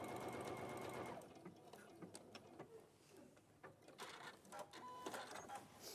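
A sewing machine runs steadily while stitching fabric, its fast mechanical whir lasting about a second, then stopping and giving way to quieter ticks and handling clatter.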